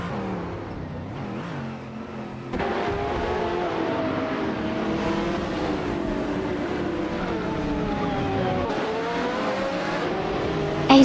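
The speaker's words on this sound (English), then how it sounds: "Jackal is driving a 24 Gillet Vertigo." Engine of a 24 Gillet Vertigo race car in a racing video game, a steady loud drone with shifting revs and gear changes throughout, sitting behind continuous game music.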